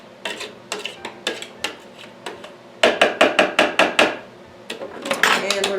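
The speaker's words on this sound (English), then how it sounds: "I'm going to scrape the sides a little bit here" A spatula scrapes around the inside of a food processor bowl, giving a string of sharp, close knocks and scrapes: irregular at first, then a quick even run of taps, and another cluster at the end.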